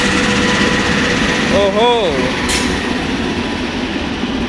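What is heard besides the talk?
train arriving at railway platform 1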